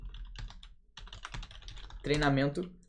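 Fingers typing on a computer keyboard while entering text in a spreadsheet, a short run of close, quiet key clicks with a denser burst near the end.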